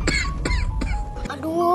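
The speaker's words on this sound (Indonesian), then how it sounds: "Aduh, batuknya semakin parah." A father coughing, about four harsh, closely spaced coughs in quick rhythm, loud and near, ending in a strained, moaning breath.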